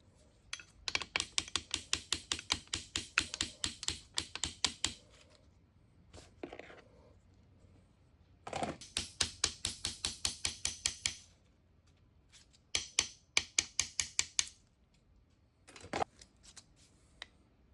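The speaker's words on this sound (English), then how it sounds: "the first thing I want to do is pop off these table slot keys" Metal table slot keys are tapped off a Troyke U-9 9-inch rotary table with rapid, sharp clicking strikes in several bursts separated by short pauses, close and crisp.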